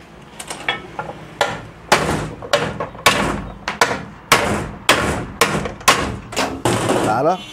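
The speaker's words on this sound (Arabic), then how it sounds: "هات الشاكوش" A hammer strikes a car's front suspension control arm again and again, with loud, close metallic blows at an uneven pace and short pauses between them.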